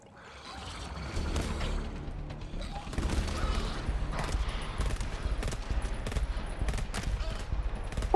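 Sentry turret in the GTFO video game firing in long, rapid automatic bursts, loud and sustained for most of the stretch, with mechanical clatter and faint voices underneath.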